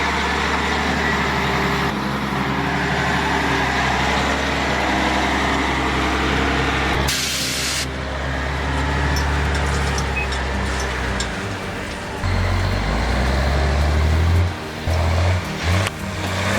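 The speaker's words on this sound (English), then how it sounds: "Its twin stacks bellow, its engine roars." Big logging truck with twin stacks, its engine roaring: a loud, sustained heavy rumble that swells and shifts as it drives, with a sharp burst midway and uneven revving toward the end, no talking.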